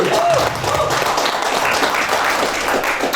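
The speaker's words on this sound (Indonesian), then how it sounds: "Tepuk tangan untuk Om Aki" A meeting crowd at a White Car Indonesia regional assembly in Purwakarta claps together, a steady wash of hand clapping heard throughout, with a voice briefly speaking over it near the start.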